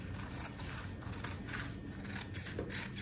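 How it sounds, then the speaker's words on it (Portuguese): Scissors snipping through fabric lining for a thermal puffer bag, a quiet series of close metallic cuts and scrapes with no talk. "Vou cortar também aqui o forro."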